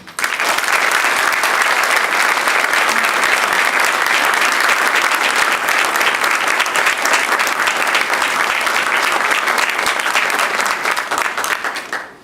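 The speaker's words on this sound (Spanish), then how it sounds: "Para todos ellos pido un caluroso aplauso." Warm, sustained applause from an audience at a 15th-anniversary ceremony of the Quintana Roo Electoral Tribunal, honoring named magistrates; dense steady clapping runs loud for about twelve seconds before tapering at the end.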